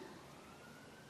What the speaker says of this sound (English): Oh, sirens everywhere.